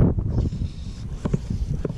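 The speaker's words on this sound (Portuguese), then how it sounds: "Quer ventania bem chata" Strong, gusty wind buffets the microphone during fly fishing for traíra, a dense low rumble that surges and eases throughout, loud and close, with no talk.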